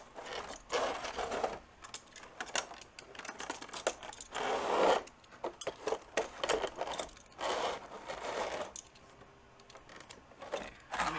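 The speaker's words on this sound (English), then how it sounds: "first gotta cut the tape" Packing tape on a boxed collectible figure being sliced and scraped open, a run of close, rasping cuts and scratchy tearing bursts in uneven spurts with short pauses, no talking.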